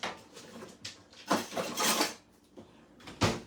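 Metal kitchen utensils clatter and clink as someone rummages through a drawer looking for a whisk, with several bursts of jangling and a sharp clank near the end, fairly close and with no talking.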